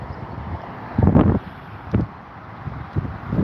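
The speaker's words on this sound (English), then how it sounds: "It's windy." Gusty wind buffets the microphone in irregular low rumbling bursts, with no speech.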